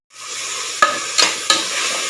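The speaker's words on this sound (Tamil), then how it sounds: "தக்காளி வெங்காயம் எல்லாமே நல்லா வதங்கட்டும்" Onions and tomatoes sizzle steadily in a hot pan while a utensil scrapes and stirs three times, with sharp clinks against the metal and no talking.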